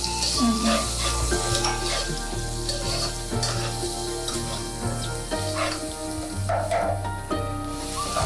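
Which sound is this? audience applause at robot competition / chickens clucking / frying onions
frying onions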